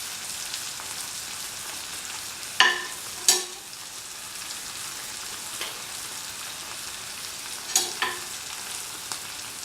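Yam and ash gourd with coriander powder are stirred in a pan over a steady sizzle, with several sharp spoon knocks and scrapes against the metal at irregular intervals; no talking.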